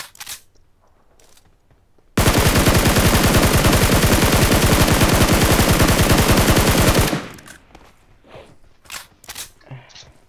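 Gunfire in a shooting video game, one long, loud, rapid automatic burst lasting about five seconds, with softer clicks and shuffling before and after.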